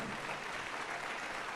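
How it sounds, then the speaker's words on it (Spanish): A brief, fairly faint wash of applause from a church congregation during a sermon, steady and without voices. "Dale un fuerte aplauso a nuestro Señor"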